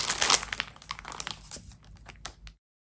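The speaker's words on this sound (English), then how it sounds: "the product itself comes plastic wrapped" Plastic wrapping being pulled off a pen roll, close crisp crinkling bursts loudest at first, then softer scattered crackles before stopping.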